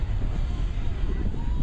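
A C-17 military transport aircraft roars overhead at an airshow, a loud, steady low rumble with wind buffeting the microphone.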